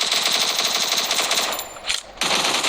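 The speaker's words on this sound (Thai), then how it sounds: "เอ้ยยิงไอได้ยังไง" Rapid automatic gunfire from the battle royale video game Free Fire, loud and close, a dense burst of rattling shots that briefly breaks off near the end before resuming.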